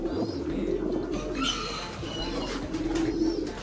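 Two pigeons, a red saddle and a blue saddle, coo close by in a soft, low, repeated rolling call over a faint background hum.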